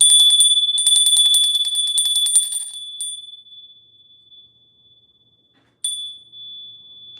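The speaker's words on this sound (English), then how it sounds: "I'm going to ring the bell immediately because the energy is dense and heavy around me" A hand bell is rung in clear, bright strikes: a quick burst of repeated clangs, then a single stroke left to ring out in a long fading tone, and one more strike near the end, with no one talking.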